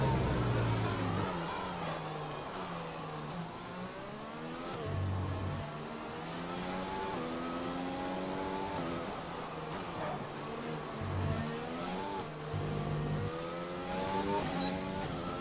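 Formula 1 car engine on a flying qualifying lap in F1 2020 at Vietnam, a high-pitched whine climbing through the gears with quick upshifts and brief drops on braking, steady and prominent with little else over it.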